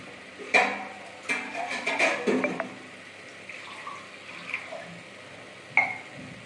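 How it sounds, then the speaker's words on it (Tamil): Water splashes and pours into a pot of goat leg gravy in a few short bursts, with clinks of a vessel, close and fairly quiet. "இதில் நம்ம இப்போ தண்ணி ஆட் பண்ண போகிறோம்."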